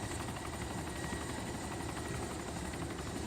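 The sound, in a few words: helicopter flying in the video game DayZ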